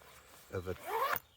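A zipper on a Fjällräven High Coast Duffel 36 bag is pulled in two short close strokes, followed by a longer rising zip that ends abruptly, with no talking.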